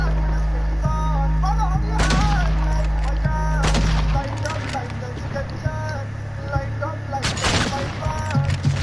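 Gunfire in a video game, with several loud sharp blasts among other clattering shots over steady droning game background sounds, and a person talking through much of it.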